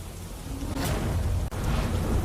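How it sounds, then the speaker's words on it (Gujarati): Heavy rain driven by strong wind over rural villages near Jasdan, Gujarat, a steady loud roar of downpour with gusty surges and no voices. "જસદણના ગ્રામ્ય વિસ્તારોમાં ધોધમાર વરસાદ"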